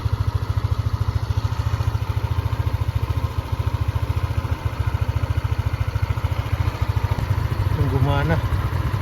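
A Yamaha Mio Soul i scooter engine idles after starting, a steady, close, rhythmic putter that holds even throughout and swells slightly near the end, where a voice briefly sounds.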